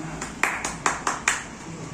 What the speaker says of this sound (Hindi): इसके लिए एक ताली हो जाए